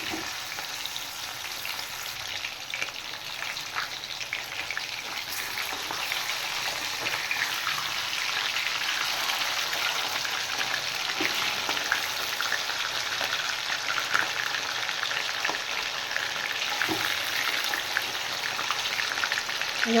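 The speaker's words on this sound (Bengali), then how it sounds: "মাছ ছেড়ে দিয়েছি আর মাছগুলো বেশি ভাজবো না হালকা এটি ওপিট করেই নামিয়ে দেবো আমি" Fish fried lightly in a shallow layer of oil in a pan gives a steady, close, crackling sizzle that holds for the whole stretch with small pops and no voices.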